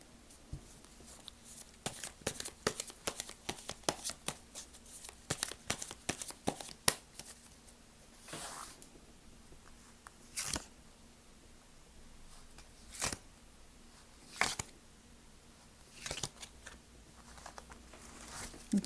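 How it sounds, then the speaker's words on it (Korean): Tarot cards being drawn and shuffled by hand, heard as quiet, scattered flicks, slides and soft snaps that come in irregular bursts with short pauses between them, with no talking. "이거 카드를 조금만 더 뽑아볼게요"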